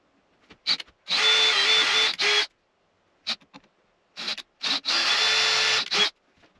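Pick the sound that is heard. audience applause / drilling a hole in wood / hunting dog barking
drilling a hole in wood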